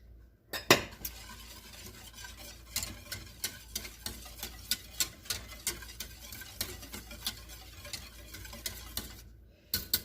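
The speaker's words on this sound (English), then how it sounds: "I've got that whisked" A whisk beats banana cream pie filling in a bowl, a steady run of sharp, regular clicking strokes against the sides, close and fairly quiet, with no talking.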